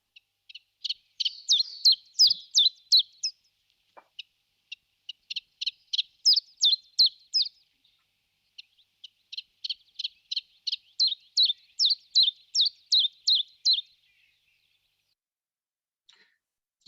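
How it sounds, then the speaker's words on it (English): A chiffchaff sings in a woodland dawn chorus, repeating bursts of bright, evenly spaced chirping notes in several phrases with short pauses between them. It sounds moderately close and is the only sound, with no voices. "you can clearly hear chiffchaff singing on the dawn chorus above some of the other birds"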